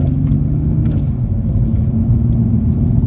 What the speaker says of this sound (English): the exhaust on it sounds insane